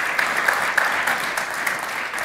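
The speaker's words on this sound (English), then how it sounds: "I think it's time for a little round of applause to our wonderful panelists" An audience at a high-level FAO panel applauds the panelists, a short, steady spread of crowd clapping at moderate loudness with no speech over it.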